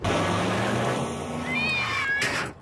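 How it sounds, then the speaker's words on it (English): Snowball II, the cartoon cat from The Simpsons, lets out a long wavering meow that rises into a higher drawn-out cry before cutting off abruptly, loud and alone. "Lisa's kitty Snowball 2 is no exception to that."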